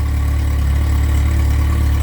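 A cold engine idles steadily just after being started with the choke off, running a little rich, with a loud, even low-pitched chug and regular firing pulses close up and no voices.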